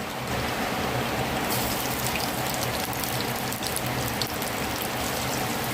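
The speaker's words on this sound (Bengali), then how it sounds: "এখন আমি দিয়ে দিব পেঁয়াজ কুচি" Chopped onion dropped into hot mustard oil crackles with a steady, dense sizzle. It fills the whole stretch without pause and grows brighter partway through.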